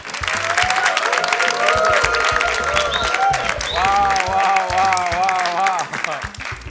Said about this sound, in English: Let me hear an applause from you.